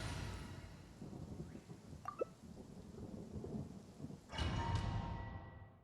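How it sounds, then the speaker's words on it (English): Rumbling thunder rolls through a steady rain wash, swelling into a louder, broader crack and rumble near the end, with no talk over it. "That thunder just now?"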